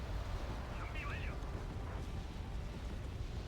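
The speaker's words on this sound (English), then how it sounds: "That's a lot of artillery coming in." Artillery shells exploding in Wargame: Red Dragon, a continuous low rumbling roar of distant blasts, with a voice talking briefly over the din.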